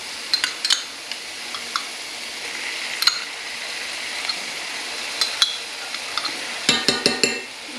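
Spoon scraping and clinking in a pan while garlic is stirred into frying alligator meatball mix, with a soft sizzle underneath and scattered metallic taps, ending in a quick run of sharper knocks against the pan.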